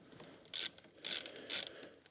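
A ratchet fitted with a hex 4 bit clicks in three quick bursts while loosening a bolt, each burst a close, bright run of pawl clicks with short pauses between them and no talking.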